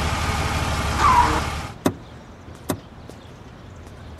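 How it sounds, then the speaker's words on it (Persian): A car pulls up with a rushing engine and road noise that cuts off after about two seconds. Three sharp, separate clicks and thumps from the door and electric windows follow in near silence. "ماشین بیار"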